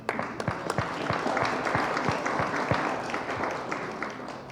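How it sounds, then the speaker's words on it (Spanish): Seminar audience gives applause at a book presentation on industrial development, a steady burst of many hands clapping close by that holds for several seconds before easing slightly. "Un fuerte aplauso, por favor."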